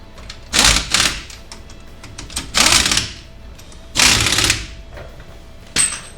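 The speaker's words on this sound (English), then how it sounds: "I'm going to turn my impact down so we can just get these things on here snug." An impact wrench snugs lug nuts on a Fox Body Mustang wheel in several short, loud mechanical bursts separated by pauses, with light handling noise between them.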